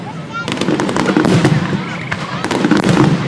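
A fireworks finale at night, with rapid overlapping bursts and crackling pops booming in dense succession, loud and continuous, while spectators talk underneath.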